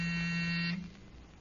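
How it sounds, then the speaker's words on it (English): An electric door buzzer sounds one steady, loud, close tone lasting under a second, then cuts off to a quiet room. "just a second, he'll ring the buzzer"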